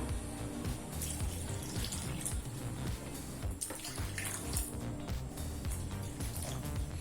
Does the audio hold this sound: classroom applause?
no